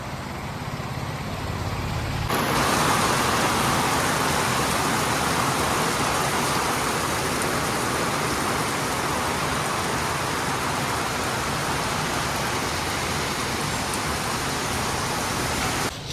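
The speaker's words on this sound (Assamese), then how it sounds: "বৰষুণ এতিয়া পূৰা দবা পিটা আহিছে।" Heavy rain pours down outside a small roadside shop, starting as a quieter hiss and then surging into a loud, unbroken roar that fills the rest of the stretch with no talking.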